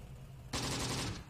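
Machine-gun fire in the World War II strategy game Close Combat: The Bloody First, set at Sbiba in Tunisia. One loud, sustained burst starts abruptly after a short quiet lead-in and rattles on to the end.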